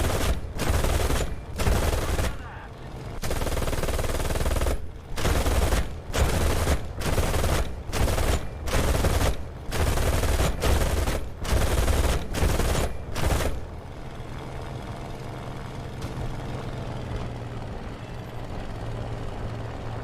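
Bursts of machine gun fire with tracer rounds in a World War II Axis-versus-Allies battle game set in the Ruhr, in repeated loud volleys over about thirteen seconds, then giving way to a steady low engine rumble.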